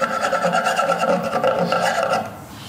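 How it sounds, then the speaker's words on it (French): A wood chisel scrapes dried glue off a stair riser in repeated quick rasping strokes, close and fairly loud, fading out near the end. "Vous venez avec un ciseau à bois et vous venez juste la racler, regardez."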